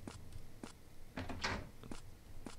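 Drawers sliding open and shut in a video game, a series of short, soft scraping and knocking bursts spaced about half a second apart, fairly quiet and close, with no voice.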